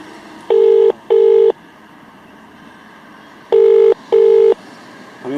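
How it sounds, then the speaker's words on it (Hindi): A telephone ringback tone sounds during an unanswered call, a pair of steady beeps, then a pause of about two seconds, then another pair, clear and alone with no talk. "देखिए फोन बज रहा है।"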